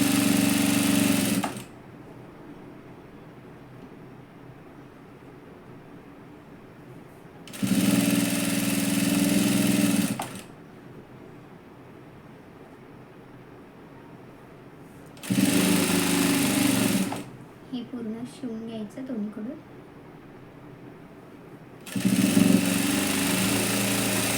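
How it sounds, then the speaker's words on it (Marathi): A sewing machine stitches a dress seam in four separate loud, steady whirring runs, each a couple of seconds long, with quiet pauses between them. "तिथे सुई टेकून नंतर इकडे शिवायला चालू करायचं"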